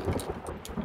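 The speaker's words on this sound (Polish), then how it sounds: "Deszczyk." Rain and thunder in the video game The Forest: steady rainfall hiss with low rumbling, brief and ambient with no talk.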